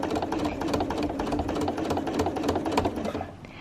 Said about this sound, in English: You can actually move it anywhere with the free motion quilting foot.